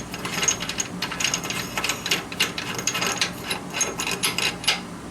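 A ratchet wrench clicks rapidly and close by as it loosens a 15 mm bolt on the 54-inch mower deck of a John Deere Z425, in a steady run of metallic ratcheting bursts.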